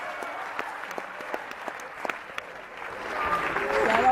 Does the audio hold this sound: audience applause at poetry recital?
yes